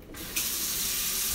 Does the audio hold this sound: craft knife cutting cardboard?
no